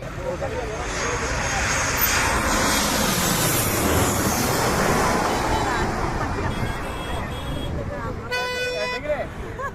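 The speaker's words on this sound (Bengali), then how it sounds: "US বাংলা এয়ারলাইন্সের বোয়িং 737 মডেলের বিমান।" A loud, steady roar of a US-Bangla Airlines Boeing 737's jet engines sustained throughout, with a brief tonal horn toot sounding near the end, at Hazrat Shahjalal International Airport.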